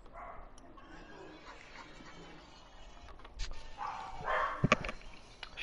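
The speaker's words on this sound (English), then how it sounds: "One barks, the other barks." Two dogs bark indoors in a few sharp, scattered yips and barks, strongest toward the end, over a low room hum with some background noise.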